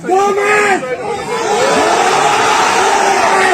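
A large crowd at a Bhim Army rally in support of reservation shouts and chants together in a loud, sustained roar, with voices rising in waves close by.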